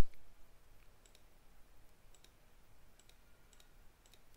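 A computer mouse clicks several times at scattered intervals during a Linux installation in VirtualBox, faint, sharp ticks over a quiet background hiss, with no voice.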